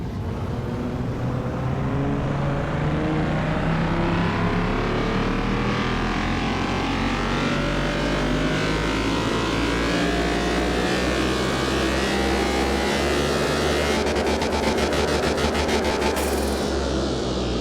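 Car engine in Car Mechanic Simulator 2021 revving hard during a dyno power test, a loud sustained roar rising steadily in pitch through the gears for many seconds, alone without talk.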